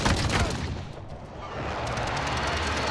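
In Call of Duty: Warzone, a close, dense barrage of rapid gunshots rattles on without a break, loud and crackling, briefly thinning midway before picking up again.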